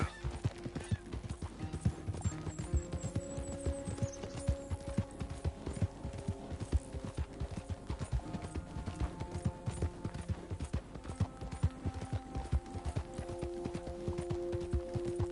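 Horse hooves clip-clopping in the Red Dead Redemption video game, a quick steady rhythm of close, crisp hoofbeats running throughout.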